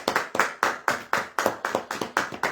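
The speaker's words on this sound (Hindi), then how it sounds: "आइए यीशु के जलाल के लिए जोरदार तालियां दें।" A congregation at a church service claps in loud, rhythmic unison, about four sharp claps per second, steady and close, with no talking.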